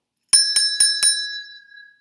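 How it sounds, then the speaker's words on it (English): A bicycle bell rings four times in quick succession, bright and close, its metallic tone lingering and fading after the last strike. "Or you could use a sound maker, such as a bell"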